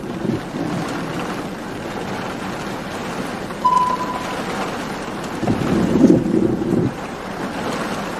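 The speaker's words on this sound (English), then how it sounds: "We're gonna be fighting wind." Strong wind from an approaching storm near Pearl, Mississippi roars steadily against the microphone, with louder rumbling gusts buffeting in bursts.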